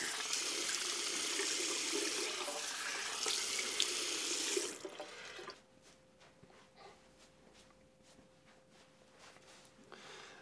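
Tap water runs steadily into a sink for rinsing after a safety razor wet shave, a loud, close hiss lasting about five seconds before cutting off, followed by quieter dripping and handling sounds.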